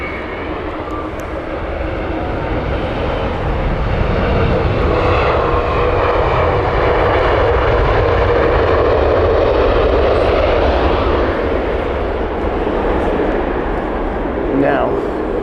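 Heavy airliners inbound at Heathrow Airport, including wide-body jets, produce a loud, sustained engine roar that swells and holds steadily at a moderate distance for over fifteen seconds.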